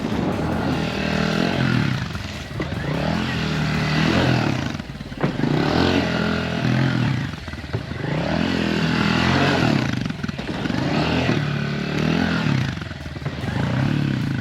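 A motorcycle engine runs loudly and steadily, swelling and easing in repeated waves of revving, close by and alone without talk.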